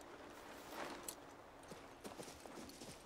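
Horse hooves clip-clop steadily in the fantasy video game King's Bounty II, a faint, even walking rhythm set low under a constant game ambience with a few brighter knocks.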